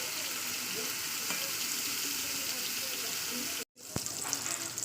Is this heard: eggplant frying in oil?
yes